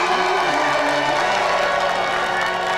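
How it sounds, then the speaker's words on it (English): A studio audience applauds and cheers steadily and loudly, a dense wash of clapping with voices rising through it, no pauses. "So let's another round of applause for our two special guests, Vicky Taylor and Donna here."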